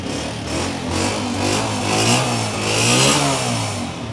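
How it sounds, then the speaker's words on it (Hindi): A 2023 Honda 125 motorcycle engine runs loud and close, its steady single-cylinder thrum rising and falling through several revs with no voices heard. "पहले बाइक का साउंड"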